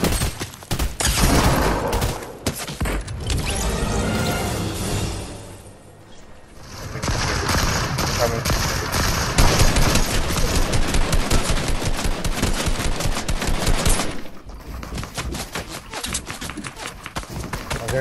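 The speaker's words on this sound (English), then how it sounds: "Is there another guy shooting now?" Sustained automatic gunfire rattles through a video game firefight, long loud bursts of rapid shots broken by a brief lull, then resuming, with faint speech mixed in.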